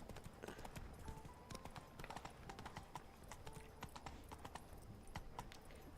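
Roach the horse's hooves clip-clopping in the video game The Witcher 3: a quiet, steady, rhythmic run of hoofbeats that keeps an even pace throughout.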